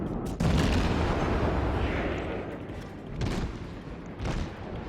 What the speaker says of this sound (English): There's a lot of ships down here shooting at each other.